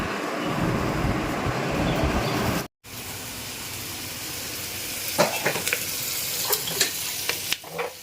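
Whole garam masala and ajwain frying in butter make a dense, steady sizzle up close, broken by a brief cut, with scattered scraping stir clicks toward the end.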